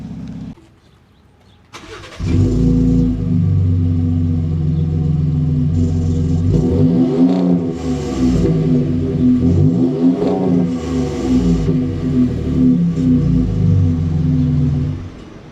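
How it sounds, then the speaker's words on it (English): A stock Ford Raptor truck engine starts up after a brief pause, then idles with a deep exhaust rumble and two rising-and-falling revs, loud and close. "So that's a stock Raptor exhaust for comparison"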